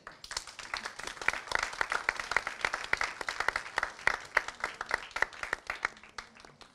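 Audience applause for dancers at a dance research congress in Mumbai, individual claps distinct in an uneven, moderately close patter that stays steady and fairly quiet, with no talk over it.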